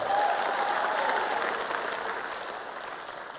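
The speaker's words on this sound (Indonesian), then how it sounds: "Tepuk tangan untuk Mas Ganjar dan Prof." A crowd applauds Ganjar and Mahfud at a 2024 campaign rally, the clapping dense and sustained, then slowly fading over a few seconds.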